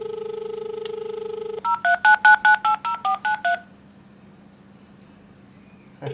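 A rapid run of DTMF keypad tones dialed on a phone set to speakerphone, about ten short evenly spaced beeps after a steady dial tone, followed by quiet.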